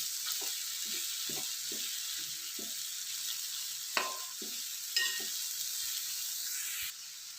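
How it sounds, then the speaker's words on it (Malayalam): Green mango sautés in oil in a pan for a dried shrimp pickle. A soft, steady sizzle carries on under scattered light stirring taps and scrapes. Nobody speaks. "മാങ്ങ ഇതിൽ വഴന്ന് വരണമല്ലോ"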